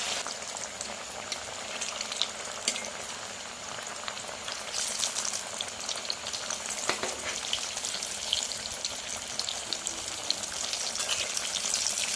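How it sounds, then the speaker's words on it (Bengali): Lentil cakes (dhoka) deep-frying in hot white oil give a steady, close, bubbling sizzle that runs unbroken throughout, with a brief surge in the middle and no voices. "তেলটা গরম হয়ে গেছে ধোকাগুলো ভেজে নেব"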